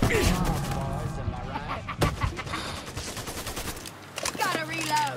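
Rapid bursts of gunfire from the Mafia 3 video game crackle loudly and continuously, with a sharp shot near the two-second mark, mixed with in-game voices and music.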